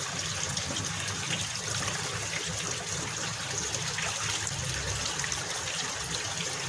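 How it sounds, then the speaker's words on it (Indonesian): Water being poured into a silkworm-harvesting container, a steady close gushing trickle that runs evenly throughout without pause. "Oke, saya tambahkan dulu airnya."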